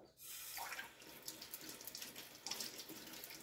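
Kitchen tap water running over a courgette as it is washed, a steady close splashing stream with small surges from the vegetable being turned under the flow, no voices.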